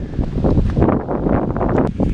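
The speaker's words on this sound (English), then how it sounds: "A little windy." Gusty wind buffets the microphone on a hiking trail under large power lines, a steady, rumbling roar with slight rustling, loud and close throughout.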